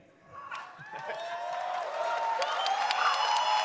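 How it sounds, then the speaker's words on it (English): Large audience at the Gamescom opening night show cheering and applauding, the roar swelling from quiet to a loud, sustained wash with whistles and shouts rising through it. "Wow, what a great crowd."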